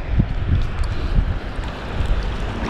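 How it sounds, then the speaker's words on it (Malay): A west wind blows at sea over a longline fishing boat, making a continuous loud rushing, buffeting roar with low gusty thumps against the microphone and no voices. "Angin barat ni."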